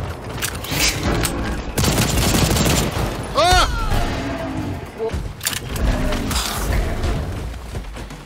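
Gunfire in the video game Second Extinction, dense rapid shots and booming impacts over a roaring mechanical din, with excited voices talking over the action.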